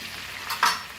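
Goan chicken stuffed with recheado masala fries in a pan with a steady, close sizzle, and a brief louder burst of spatter and stirring in the second half.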